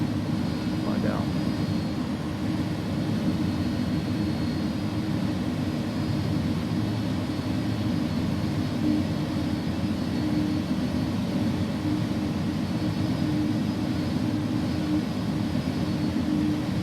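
An Airbus A300 jet on final approach in a flight simulator game gives off a steady, even engine drone with a low hum, unchanging throughout, as someone talks over it.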